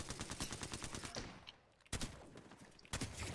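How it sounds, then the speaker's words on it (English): Rapid video-game gunfire rattles in quick bursts, a fast run of shots, a pause, then sharp single shots and another burst, close and punchy. "Okay, I shot him."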